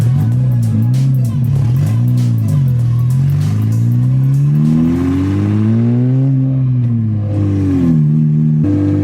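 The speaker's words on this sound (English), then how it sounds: "I'm driving my S54 swapped E30. So loud" A loud BMW E30 with a swapped-in S54 engine revving up and down as it drives, the exhaust note rising and falling strongly throughout.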